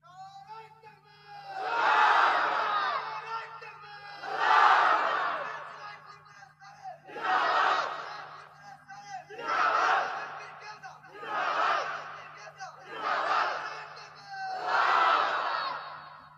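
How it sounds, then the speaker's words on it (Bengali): A large gathering at a Bangla religious sermon shouts the takbir in unison, seven loud swelling chants rising and fading in a steady rhythm, with a faint low hum underneath. "জোরে বলে একজন তাকবীর দেন দেখি।"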